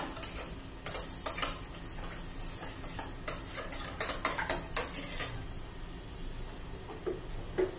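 A spoon stirs yogurt with a pinch of salt in a bowl while preparing fasting-style dahi vada, giving repeated soft clinks and scrapes at close range in an irregular rhythm, with no voices.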